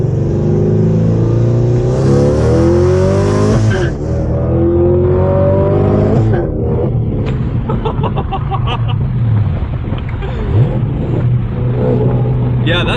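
A 6th-generation Camaro fitted with long tube headers and running on E85 roars and revs loudly from inside the car, the exhaust rising and falling under excited voices talking.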